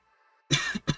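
A single person coughs twice in quick succession, close and fairly loud after a brief quiet moment.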